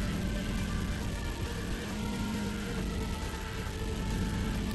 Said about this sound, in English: Now we should just be drifting in a circle forever